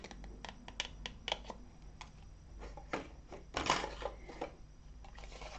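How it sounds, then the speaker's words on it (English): Scissors cutting the edge off a cardstock flap of a small paper gift box, a run of quick crisp snips and rustles close by, spaced irregularly at low level. "We're just going to cut off the edge."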